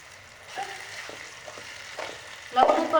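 Onions with a little salt sizzle gently in a pan, with a few soft scrapes of stirring and a louder burst of frying near the end; no one speaks.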